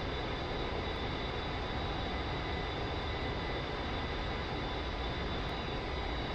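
A steady, unbroken drone from the A-10C's jet engines in the DCS World flight game, even in level and texture with no talk.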